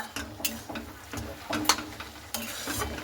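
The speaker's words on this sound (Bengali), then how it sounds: "আমি আবারও কিন্তু খুব ভালো মতো করে বাঁধাকপিটাকে নেড়ে নেব" Cabbage frying in a pan on high heat, stirred repeatedly with a utensil, giving irregular scraping and clattering strikes over a soft steady sizzle, without voices.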